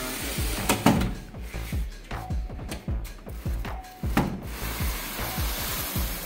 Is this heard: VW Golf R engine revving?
no